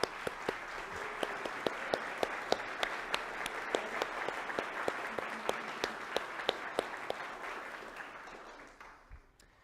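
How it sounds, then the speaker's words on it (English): An audience at a community master plan presentation applauds steadily for nearly ten seconds, with a few louder individual claps standing out at a regular pace, before the clapping thins and fades. "I wonder if you could join me in offering the warmest round of applause for Michael and his team."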